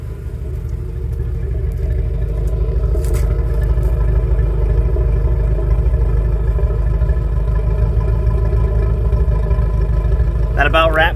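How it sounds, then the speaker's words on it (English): A Honda D series engine idles with a steady, loud low rumble from the exhaust, running evenly for the whole stretch after a timing belt and water pump job, with a short clatter near the end. "The exhaust note sounds great."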